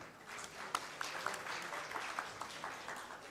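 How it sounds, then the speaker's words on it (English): Faint audience applause for panelists in a hall at an infrastructure summit in Nepal, a soft, distant patter of many hands with a few sharper claps standing out. "please give a big, big round of applause to our incredible panelist, chair, and keynote speaker"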